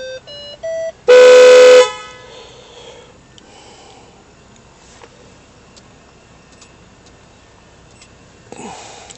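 A few short electronic control tones lead into a loud, brief blast of a Honda Odyssey car horn, followed by quiet interior background.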